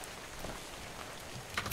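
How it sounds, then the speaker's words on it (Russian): Steady rain hisses down in the survival video game ARK: Survival Evolved, a soft, even wash of falling drops with no talk over it. "И дождь хорошо пошел в тему, ребята."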